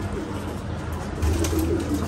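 Low, soft cooing of a racing pigeon rises briefly over a steady background hum, no talking.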